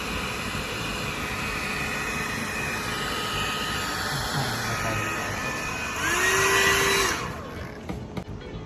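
An Itera Care therapy blower runs with a steady, loud whooshing hum for the whole stretch, its tone briefly rising and swelling louder for about a second before settling back.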